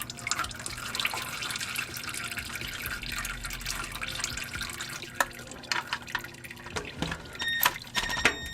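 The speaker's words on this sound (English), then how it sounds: "Quite a bit still coming out the strainer." Transmission fluid dripping steadily from the strainer of a 1994 Lexus LS400 during a fluid change, faint irregular drips and trickles close by over a low background hum, with a few sharper taps near the end.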